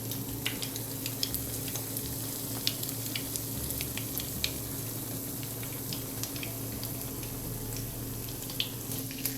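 Crab cakes fry in a pan over medium heat with a soft, steady sizzle and scattered faint pops and crackles under a constant low hum, no talking.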